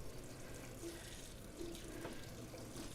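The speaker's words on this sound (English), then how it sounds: "Let's rinse that." Water runs steadily from a kitchen tap as something is rinsed under it, a faint, continuous splashing hiss with small shifts as the item moves through the stream.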